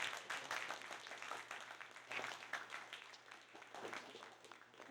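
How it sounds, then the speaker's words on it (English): A seated audience at a hackathon tech intern panel gives a round of applause, faint and somewhat distant, with uneven bursts of clapping that rise and dip across the stretch. "Can I first get a round of applause for"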